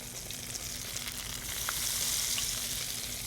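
Oil sizzles and crackles steadily in a fryer as beer-battered eggplant tempura fries, a dense hiss with faint pops, close and continuous throughout.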